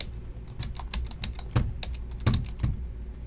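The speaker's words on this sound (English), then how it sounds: "Now let's do the numbers, which I gotta type in." Numbers are typed on a computer keyboard, a quick, close run of crisp key clicks in an irregular rhythm, with a few heavier strokes standing out and no talking.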